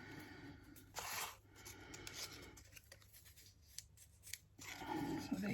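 Scissors cutting paper for a desk tidy box, quiet snipping and rustling strokes that come in short bursts with pauses between them, close by, with no voices.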